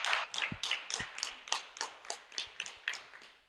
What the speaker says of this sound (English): So for everybody, clap for them.